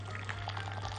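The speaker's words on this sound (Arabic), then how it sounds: "ابتدي اعجن وانزل بالميه حبه بحبه لغايه ما العجينه تلم معايا" Warm water trickles faintly into pizza dough being kneaded by hand, a soft liquid pour over a steady low electrical hum.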